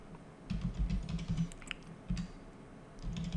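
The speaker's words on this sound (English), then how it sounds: "let's type form" Computer keyboard keys are tapped in short bursts of quiet clicks with pauses between, close and soft while coding a web form.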